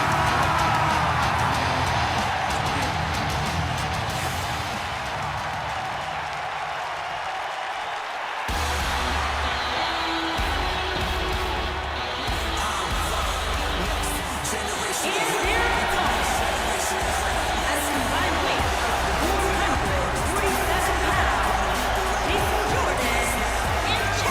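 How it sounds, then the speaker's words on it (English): A large arena crowd in the video game WWE 2K roars and cheers steadily throughout, loud and dense, with an announcer talking over it. "listen to this crowd"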